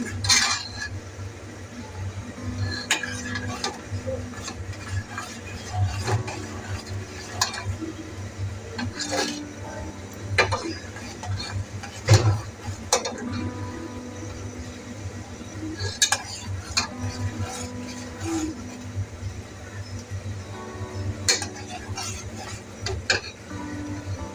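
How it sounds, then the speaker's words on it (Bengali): Utensil stirs and scrapes coconut agar-agar pudding mixture in a pot as it comes to a boil, with scattered metallic clinks and taps over a steady low bubbling hum, no voices. "বলক আসা পর্যন্ত আমি এটা জাল করব। এই তো বলক আসতেছে এখন।"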